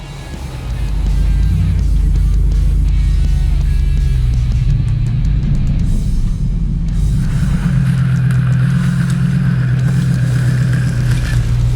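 A supercharged V8 4x4 works hard up an off-road track, its loud engine droning and revving steadily from close by for about eleven seconds, with a higher whine joining partway through.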